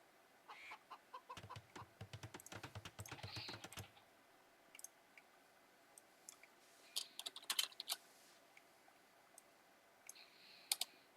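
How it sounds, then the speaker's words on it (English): Chickens cluck faintly in a video game match featuring Japanese and Incas, mixed with rapid keyboard typing and mouse clicking in short bursts, with no talk. "I could hear chickens."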